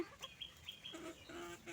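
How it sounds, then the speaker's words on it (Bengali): Chickens cluck and squawk in short bursts nearby, with a couple of higher calls and quiet outdoor background. "দেখো যে মুরগিগুলো দৌড়ে বেড়াচ্ছে"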